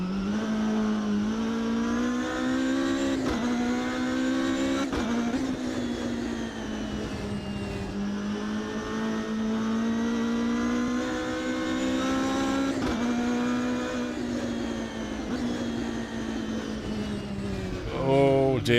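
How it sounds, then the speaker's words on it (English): A Nissan GTR racing at Spa in Automobilista 2, with a steady droning engine note that rises and falls through gear changes across the lap, loud and continuous, while someone talks over it. "I think I'm going to drive the GTR next. The Nissan GTR."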